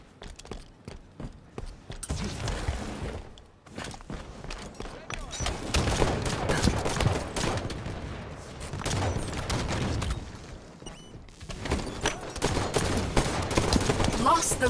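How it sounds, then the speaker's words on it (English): Rapid bursts of video game gunfire during a competitive shootout, repeated volleys and overlapping shots with booms and footsteps, loud and continuous with brief lulls. "Taking fire outside"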